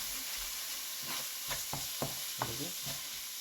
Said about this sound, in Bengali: পেঁয়াজটা যতক্ষণ গলে আছে ততক্ষণ আমরা কষাতে থাকবো।